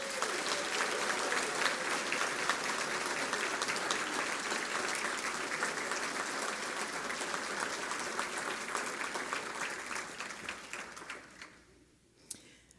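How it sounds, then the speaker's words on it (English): A sustained round of applause fills a ceremony honoring the teachers of the year, dense clapping steady for about eleven seconds before thinning out and fading to near silence at the end. "let's give them a round of applause"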